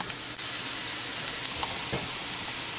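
Onions cook in a big pot of chicken soup, giving off a steady, close sizzling hiss with faint stirring sounds.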